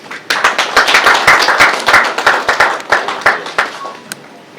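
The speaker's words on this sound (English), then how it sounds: "Please, another round of applause for him." Sustained applause from an audience at a podium event, many hands clapping densely and loudly for several seconds, then thinning out toward the end.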